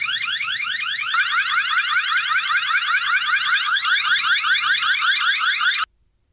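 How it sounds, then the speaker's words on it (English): A eufy floodlight security camera's siren alarm blares loud and close, a rapidly warbling electronic tone that switches to a higher pattern partway through, then cuts off abruptly. "You can press this alarm and it definitely is loud. Just take a listen to how loud this alarm sounds."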